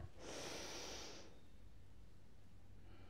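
A single deep inhale during a yoga exercise: a steady, airy breath through the nose lasting about a second, close and fairly quiet, then near silence.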